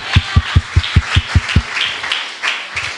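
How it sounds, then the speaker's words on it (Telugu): Congregation at a New Year church service clapping in a steady rhythm, about eight sharp claps close together, then trailing into looser scattered applause. "గట్టిగా చప్పట్లు కొట్టొచ్చు ఈ మాటకి"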